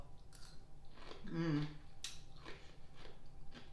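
Close-up crunchy chewing of homemade sauerkraut, a series of moist, crisp bites with a louder crunch in the middle, no one speaking.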